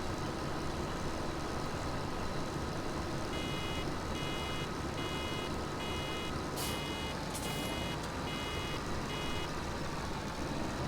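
A farm vehicle in Farming Simulator 17 gives off evenly spaced electronic reversing beeps over a steady low engine drone, the beeps starting partway through and repeating in a regular rhythm; a couple of short clicks sound near the end.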